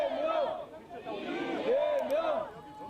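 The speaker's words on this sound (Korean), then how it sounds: "지금 현장에 당직자들, 의원들, 지지자들 환호하는 소리 들리고" Party officials, lawmakers and supporters of Democratic Party leader Lee Jae-myung cheer and chant together as a crowd outside, voices rising and falling in long, sustained calls.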